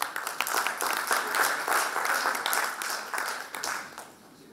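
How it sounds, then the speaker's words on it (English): Audience applause rises at a business talk before a startup co-founder takes the stage: a dense, steady wash of many hands clapping that holds for several seconds, then thins and fades at the end. "the applause would be welcome regardless"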